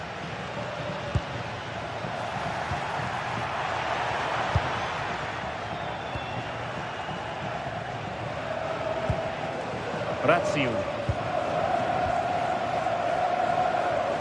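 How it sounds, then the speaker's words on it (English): A stadium crowd in a football video game roars and murmurs continuously, a broad swelling wall of fans with occasional sharper whistles, heard beneath faint commentary. "Well, just listen to this crowd."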